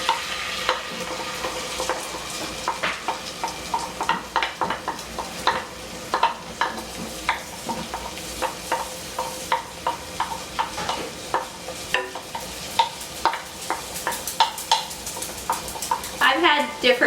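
An onion sizzles and fries in a pan while being stirred, with frequent scraping and clinking strokes over a steady crackle, close and moderately loud, with faint speech in the background.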